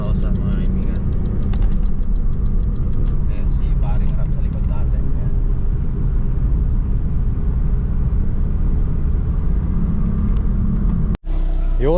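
Engine of a stock 1996 Toyota Corolla GLI heard from inside while driving on a highway: a steady, loud low rumble of engine and road noise running throughout, with a brief dropout near the end.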